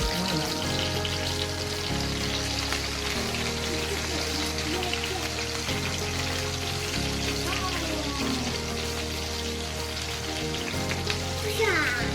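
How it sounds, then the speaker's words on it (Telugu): Fish frying in hot oil until golden, a steady crackling sizzle with soft popping that runs throughout, loud and close, with a low, even hum of background noise underneath. "ఫిష్ బాగా ఫ్రై అయినాక మంచిగా గోల్డెన్ కలర్లో బాగా ఫ్రై అయినాక"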